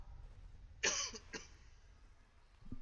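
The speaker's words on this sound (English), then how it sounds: "I'm just about to cough." A single cough, close and sharp, with a brief follow-up hack, then quiet room tone.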